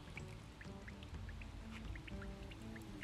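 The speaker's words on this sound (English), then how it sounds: "Get that nice drip going." Water drips and trickles steadily while brewing grains are rinsed during home brewing, a faint continuous patter of small droplets over a low background hum.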